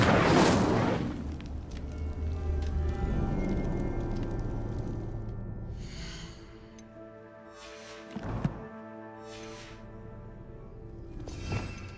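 Incendio fire spell cast in Hogwarts Legacy: a loud burst of flame at the start that fades into a rumbling roar, followed later by lighter whooshes and a sharp crackle.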